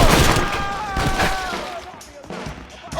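Video game gunfire sounds in bursts of sharp shots. Loud voices and a whistling tone overlap the first half, and further scattered shots fade toward the end.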